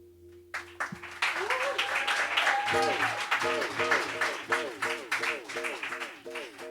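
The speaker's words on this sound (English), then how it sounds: "Please, one more round of applause for Dear Friend Books, this incredible space." Applause from an audience inside Dear Friend Books, a bookstore and wine bar, rising after a brief quiet start and holding steady, with talking and cheering voices mixed through the clapping.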